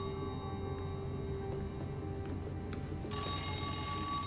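A red telephone rings in the Missing horror game, its bright electronic trill sounding steadily over a low droning background and swelling louder near the end, with no one speaking.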